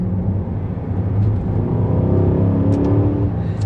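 An Aston Martin DBX engine gives a deep, throaty rumble, a steady low growl swelling slightly as it pulls, heard continuously throughout.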